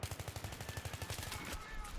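Rapid automatic gunfire rattles in a fast, even burst in the video game Battlefield 3 during a team deathmatch on the Canals map, loud and dense before cutting off abruptly.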